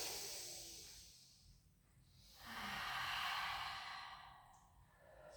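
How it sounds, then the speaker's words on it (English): A slow, deep breath drawn in and let out during a pilates session, a soft airy inhale swelling and fading, quiet and close, with no talking over it. "take a big deep breath in"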